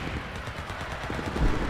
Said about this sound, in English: shooting with this, because trying to use that automatic with that kind of recoil at that range